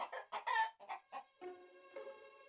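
A hen clucks in a short run of sharp bursts, then holds a few drawn-out, tonal notes, clear and close, with no talking.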